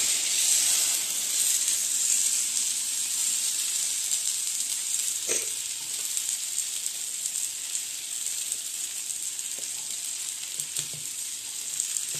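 Finger millet and drumstick leaf thalipeeth fries on an oiled griddle, giving a steady close sizzle and hiss throughout, with a few faint taps and scrapes and no talking.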